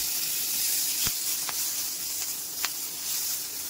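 Tomatoes go into hot oil with green chillies for spinach soup, producing a soft, steady sizzle and hiss broken by a few small crackles and pops, with no talking.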